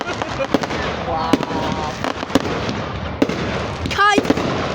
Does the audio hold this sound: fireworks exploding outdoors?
yes